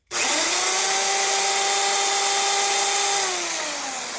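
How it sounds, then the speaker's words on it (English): Power chamfer tool bevelling the mouth of a cartridge case while reloading ammunition, a loud whining motor spin starting suddenly, holding a steady pitch for about three seconds and then winding down. "Then you grab your chamfer tool and you put that in the end of it here, and you hold that tight too"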